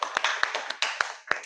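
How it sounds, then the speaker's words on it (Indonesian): Classroom applause for a student group after their presentation: a short run of sharp claps from a few people nearby, uneven in rhythm, with no talking. "Tepuk tangan buat kelompok 2."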